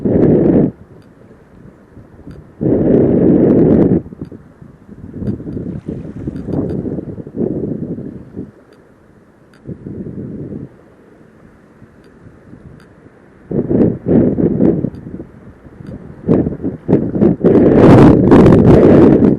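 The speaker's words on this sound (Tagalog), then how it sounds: "Grabe ang hangin." Heavy wind buffets the microphone in loud rumbling gusts that come and go, with quieter lulls between bursts.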